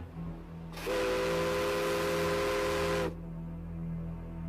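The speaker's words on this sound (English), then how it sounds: "Before the radios, simple thing like this, the old whistle, everybody had one." An old tugboat steam whistle blows one long, loud, steady blast of about two seconds, rising out of a low engine hum and cutting off sharply.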